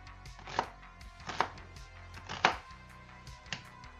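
A knife chops onions for a caramelised onion relish on a board. Four sharp, evenly spaced chopping strikes are heard close up and alone, with quiet pauses between them.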